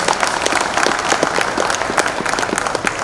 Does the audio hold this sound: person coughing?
no